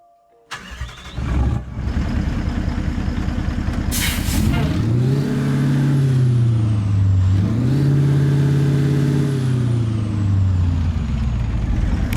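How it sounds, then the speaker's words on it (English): Kenworth W900 truck with a Cat engine in American Truck Simulator cranks over, catches and settles into a loud, steady diesel idle with rising and falling revs, a brief hiss of air near the start, no talking. "let's get this Kenworth W900 started up, and so you can hear the cat engine that is within it."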